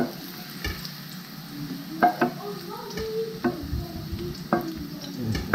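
Mushrooms sauté in a pan with a low steady sizzle, punctuated by a series of scraping, knocking stirs of a utensil against the pan, close and fairly quiet.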